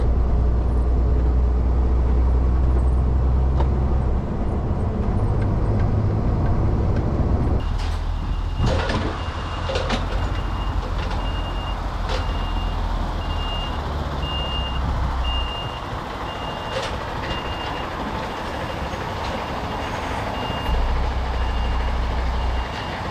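A truck reverses to park its trailer, with a steady repeating reversing beep over a loud, continuous diesel engine rumble and some clanks and rattles partway through.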